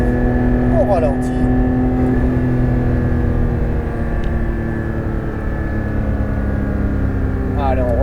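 Porsche 911 GT3 RS engine easing off on the Nogaro circuit, a steady loud drone with layered harmonic hum that holds level throughout, faint chirps riding on top.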